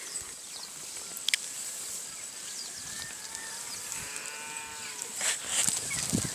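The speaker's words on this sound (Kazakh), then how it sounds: "Бұл жерде 500 қой." A pen holding a flock of about 500 sheep on a sheep farm: a few faint, wavering bleats rise midway over a steady hiss of barn ambience, with a couple of sharp clicks near the start and rustling at the end.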